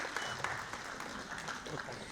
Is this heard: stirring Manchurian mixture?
no